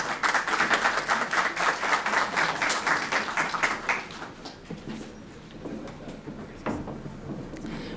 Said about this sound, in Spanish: Un aplauso para la doctora Ana Valderrama